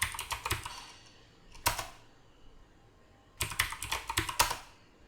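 Fingers typing a password on a computer keyboard, close-up, in three quick bursts of rapid clicking keystrokes separated by short pauses, with no voices.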